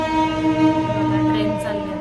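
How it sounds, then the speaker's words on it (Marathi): A passing train gives off a steady, droning tonal sound, like a horn or engine hum, that holds evenly for about two seconds at fairly loud level, with no speech over it. "ट्रेन चालली आता."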